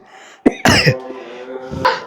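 Several sharp coughs break out near a fire into which dried red chillies are poured, short harsh bursts with pauses between them.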